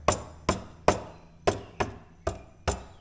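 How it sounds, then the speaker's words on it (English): Sharp taps on the dash of a ZRX1100 motorcycle, seven distinct knocks at uneven intervals, each with a brief rattling decay, close and clear with no talk. "just started tapping around on the dash, and this time I do hear this rattle"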